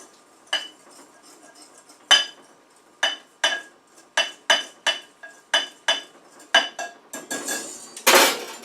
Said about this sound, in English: Just kind of whisk these together.